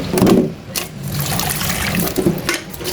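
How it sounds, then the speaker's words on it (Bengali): Running water splashes over fish being washed in a kitchen, an uneven close gush with a few louder surges, no voices. "এখন আমি মাছগুলো সুন্দর করে ধুয়ে নিছি।"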